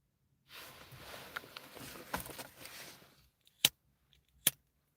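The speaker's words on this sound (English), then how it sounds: "Y'all see me shuffle this deck." Tarot cards shuffled by hand in a quiet room, a steady riffling rustle for a few seconds, followed by two sharp separate snaps as the deck is tapped or squared.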